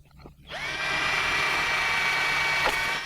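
A cordless power drill bores through a large floor tile during a repair, a steady loud whine that starts after a brief pause and holds evenly to the end, with a short rattle near the close.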